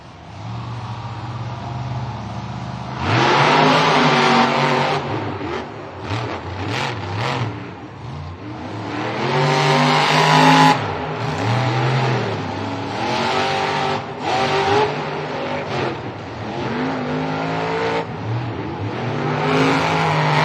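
Monster trucks at a stadium event rev their engines and race, loud and roaring, with repeated swelling and falling revs and aggressive acceleration bursts, sustained throughout with crowd-like ambience.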